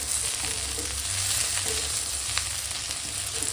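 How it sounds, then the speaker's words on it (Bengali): Whole cumin seeds sizzle steadily in hot oil as a tempering for a sour mosur dal with hog plum, a close, continuous crackling fry with no pauses. "গোটা জিরে ফোড়ন দিলাম"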